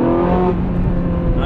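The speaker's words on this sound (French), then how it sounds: "Donc si j'accélère, les valves vont s'ouvrir." A car revs hard in second gear as its exhaust valves open under acceleration, giving a loud, steady, full engine roar up close, with one brief spoken word at the start.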